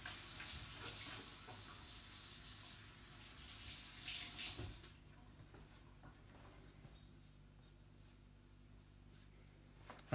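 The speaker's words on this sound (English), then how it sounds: "Wash my hands real quick." Tap water running in a kitchen sink while hands are washed, a close, bright rushing stream for about five seconds that cuts off, leaving quieter drips and handling clatter.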